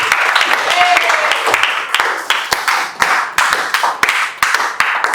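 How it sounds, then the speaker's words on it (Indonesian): A classroom of students claps loudly in the middle of a lesson. The hand claps come in uneven, sharp bursts, and some scattered voices can be heard mixed in with the clapping. "Tepuk tangan sekali lagi buat kita semua."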